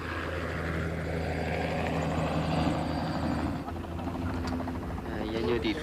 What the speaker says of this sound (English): We had a helicopter supplied by the Chinese army, and we used it to search along the Darim River and the upper reaches of the Kongche.